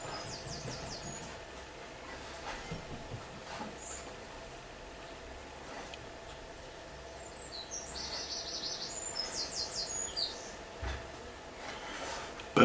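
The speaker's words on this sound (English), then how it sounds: "Birds are still singing. That's always good." Birds singing outdoors on a quiet summer day, faint scattered chirps and short trills in the distance over a low steady background hum, with no talking.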